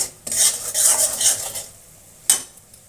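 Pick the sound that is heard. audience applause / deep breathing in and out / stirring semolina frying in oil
stirring semolina frying in oil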